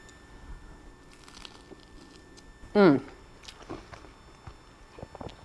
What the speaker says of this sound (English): I got the crunch from the toast